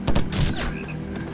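Suppressed gunfire in Call of Duty 4: Modern Warfare, several quick close shots in a short burst over steady game ambience.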